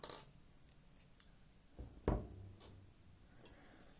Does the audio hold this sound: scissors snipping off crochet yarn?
yes